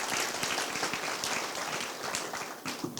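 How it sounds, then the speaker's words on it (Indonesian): A congregation applauding in a hall, a full, continuous patter of many hands that holds steady and eases slightly toward the end. "Kasih tepuk tangan buat mereka."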